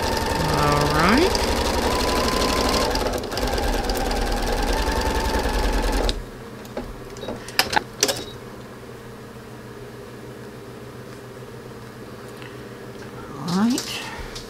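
A sewing machine stitches a quilt seam for a Halloween block, a fast, close, steady whir for about six seconds, then stops, leaving quiet handling noises and brief talk.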